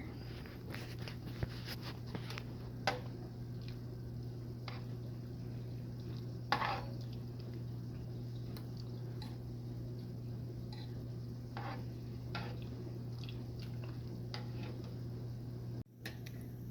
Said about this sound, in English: Once the soap is in the water, you need to continuously stir it so that it doesn't clump up or stick to the bottom